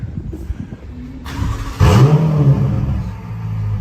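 A 2020 Chevrolet Camaro ZL1 engine idles roughly, then revs up sharply with a loud, hollow growl that holds steady before settling back.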